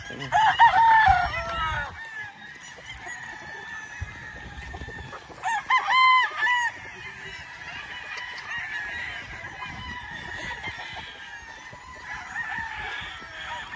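Several roosters crow loudly at a gamefowl breeding farm in Bicol, one near and others farther off, with hens clucking and murmuring steadily in between.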